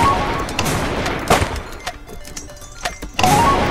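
Video game gunfire aimed at the player comes in several sharp bursts and single shots, close and loud, with a loud hit near the start and another burst at the end.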